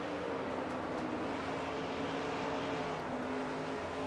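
Onboard a Ford race car driven by Jessica Shelton while it battles another Ford: a constant, loud, dense engine and road roar that never lets up.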